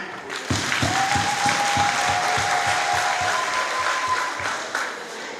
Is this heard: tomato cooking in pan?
no